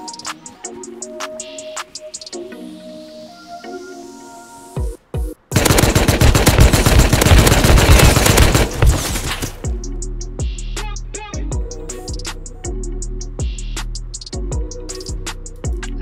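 Gunfire in the survival game Rust erupts as a loud, dense burst of rapid automatic shots lasting about four seconds, set between quieter stretches of game sounds.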